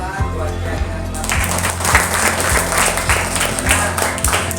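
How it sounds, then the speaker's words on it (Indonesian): Students in a classroom break into applause, a quick, lively clapping that starts after a second, with a steady low background tone running underneath. "Tepuk tangan buat keyakinan kelas."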